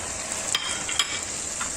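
Chicken frying in a pan with cumin powder, coriander powder and black pepper, a steady hiss of sizzling broken by a few brief scraping stirs, close and alone.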